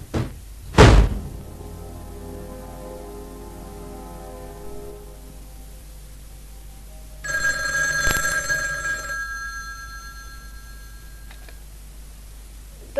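A telephone rings in a quiet interior: a brief loud thunk opens, then after a long hush a bright, trilling bell sounds for about two seconds before fading, with no voices over it.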